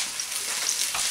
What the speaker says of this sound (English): Okay, so we started frying it.